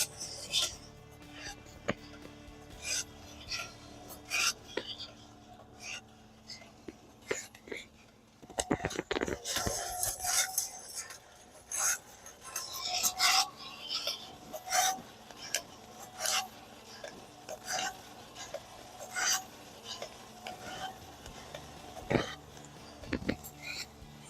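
Coffee beans reaching first crack during roasting, with scattered sharp pops and crackles that come irregularly and then cluster more densely partway through. Soft whispered talk and rustling run underneath.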